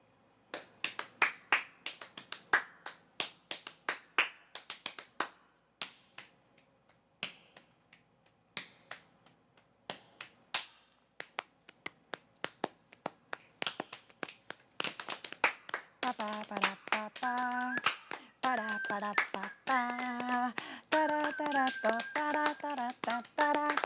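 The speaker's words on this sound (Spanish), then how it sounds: "tenemos los chasquidos, las palmas" Sharp finger snaps and hand claps made as body percussion, starting as sparse single snaps and building into a dense, rhythmic run, with a singing voice entering over the percussion in the second half.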